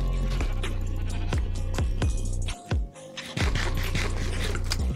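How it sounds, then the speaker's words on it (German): Sheep bleat in Minecraft over a dense, busy game soundscape, with several sharp clicks and thumps spaced through it and a brief dip in the middle. "Ich hab Schafe."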